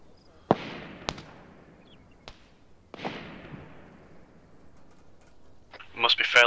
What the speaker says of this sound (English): Must be fairly close, I can hear the cracks.